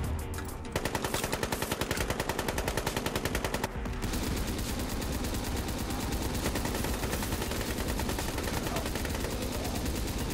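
Rapid automatic gunfire from a weapon in Call of Duty Black Ops 3 Zombies, a dense steady burst that stops briefly near the four-second mark and then resumes continuously, loud and close throughout.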